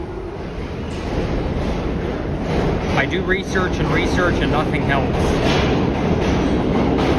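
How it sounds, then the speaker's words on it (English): New York City subway train leaving the station, giving a steady loud rumble with squealing wheel tones midway as it pulls out, while a voice speaks briefly over it. "So let's watch this train leave."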